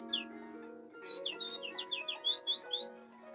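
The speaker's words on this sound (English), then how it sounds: "a little bird" A little bird chirps in a quick series of bright, short tweets, one at first and then about ten in rapid succession, over a soft background tone with no talking.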